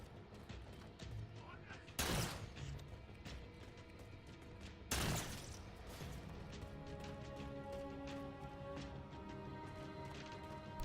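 Weapon fire in the first-person shooter Halo 4 on Legendary difficulty, with two sharp loud blasts early on over a busy bed of combat noise, music and game effects.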